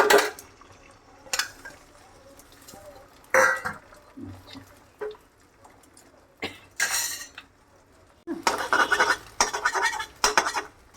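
Beaten egg being stirred into chana dal in a pan, bhujia-style: a spoon scrapes and clinks against the pan in separate short bursts, with quiet gaps between them, close by and with no voices.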